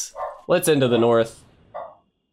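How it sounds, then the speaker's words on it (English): A dog barks in the background, one extended run of loud harmonic barks followed by a brief softer yip, while someone talks nearby. "If you hear a dog in the background,"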